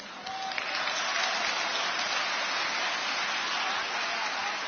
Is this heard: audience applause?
yes